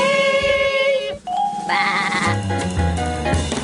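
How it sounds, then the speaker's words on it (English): A cartoon sheep from Sheep in the Big City bleats in a few wavering, nasal cries, loud and close, with bright musical tones mixed in and no talking. "Farmer John loves his animals, especially a spunky little sheep called Sheep."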